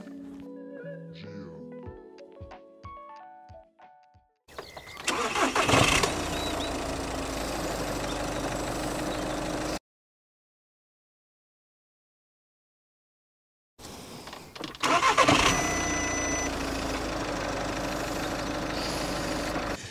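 An Audi A3 8P engine, high mileage, with a new battery cranks briefly and catches, then idles steadily; after a pause it cranks again and starts, settling into a loud, even idle.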